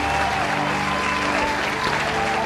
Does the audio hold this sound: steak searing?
no